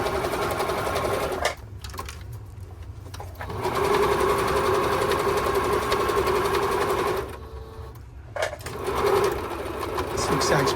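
Singer 7528 sewing machine stitching a zigzag sample, loud and close, running in bursts with short pauses between stretches of whirring needle motion while a person talks over it.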